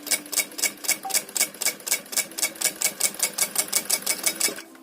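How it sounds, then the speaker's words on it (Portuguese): A sewing machine stitches a zipper onto a towel-fabric pouch, its needle chattering in a steady, even rhythm of about four strokes per second, close and clear with no talking. "Vai costurando, vai ajeitando, vai tensionando esse zíper."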